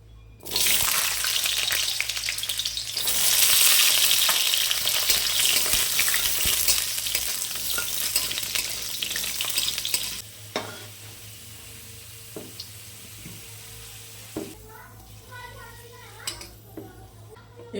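Carrots for shukto fry in a pan with a loud, dense sizzle that swells for about ten seconds, then drops to a quieter crackle broken by occasional utensil knocks and stirring clinks.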